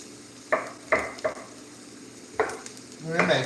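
Onions fry in a pan and are stirred, with several sharp scraping strokes over a soft background sizzle and a louder flurry of stirring at the end.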